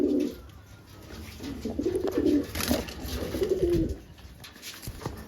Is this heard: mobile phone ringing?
no